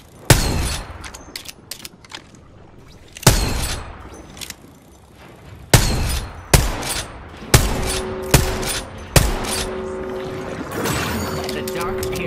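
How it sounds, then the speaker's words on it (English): Sharp, loud gunshot bursts ring out in Apex Legends, repeated in irregular volleys across the whole stretch, each with a quick decay, over a busy game-effect background. "Opening fire."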